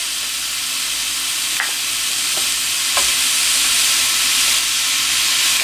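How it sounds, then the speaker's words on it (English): Minced meat browning in a frying pan for chilli con carne, a loud, continuous close sizzle and hiss with a few faint utensil taps, no one speaking. "So I'm just going to start browning that off anyway."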